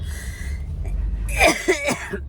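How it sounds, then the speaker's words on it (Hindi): A raspy, wheezy cough bursts out in a few harsh, close pulses after a quieter breathy moment. "खांसी हो रही यार"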